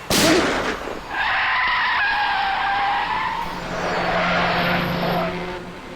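A car skids to a stop on a road in a TV crime drama scene, a loud, sustained tire squeal with engine noise lasting several seconds.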